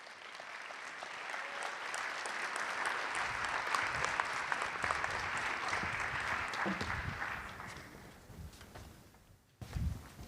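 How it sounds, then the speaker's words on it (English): An opening-ceremony audience at a conference gives a sustained round of applause for Ghada Waly, swelling steadily, then fading away near the end, followed by a brief low thump. "A huge round of applause, and thank you for wearing green to Ghada Waly"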